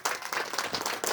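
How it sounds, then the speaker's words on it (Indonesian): A group bursts into dense, steady applause at a church anniversary thanksgiving and retreat gathering, many hands clapping close and loud throughout the brief moment. "Oke, tepuk tangan untuk kelompok 1."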